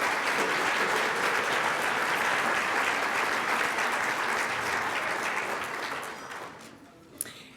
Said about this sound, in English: Let's start with a round of applause for all of our public safety officials.